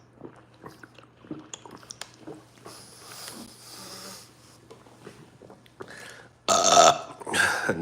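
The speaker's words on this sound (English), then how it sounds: "Nasty ass burp." A loud, gross burp from a man chatting casually after drinking coffee, set among scattered mouth noises and quiet gaps, with a stronger raspy burst near the end.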